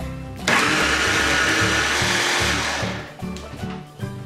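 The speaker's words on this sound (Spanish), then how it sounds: "La mini primer voy a moler bien, bien, bien las frambuesitas." Hand blender grinding raspberries while preparing panna cotta: a loud, steady whir starts abruptly and runs for about two and a half seconds, then breaks into short, uneven pulses as the blade slows and restarts.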